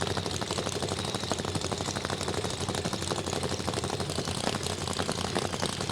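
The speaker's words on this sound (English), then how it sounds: "Listen to that Plymouth idle." A Plymouth drag car idling at a drag strip, a dense, continuous engine rumble with a rapid uneven lope, steady in level and heard at moderate distance with no talking.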